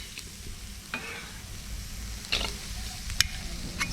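Lemongrass, Thai ginger, galangal, garlic and shallot dry roasted in a pan, a low steady crackle with a few sharp clicks and scrapes as the pieces are moved, close and quiet with no talking.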